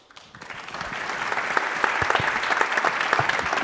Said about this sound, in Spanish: Un aplauso para Pablo Solima